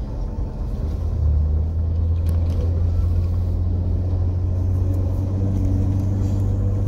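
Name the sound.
car driving on snowy roads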